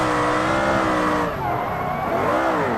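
A BMW 5 Series in the BeamNG driving game, its engine overheating, screeches its tires with a continuous tonal wail over engine roar that wavers and bends in pitch, loud and close throughout.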